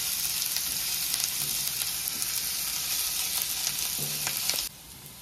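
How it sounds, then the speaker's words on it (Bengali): Chopped onion frying in hot oil, a loud continuous sizzle with a few soft stirring knocks, cutting off abruptly near the end. "পেঁয়াজটা সামান্য ভেজে নেব লাল লাল করে"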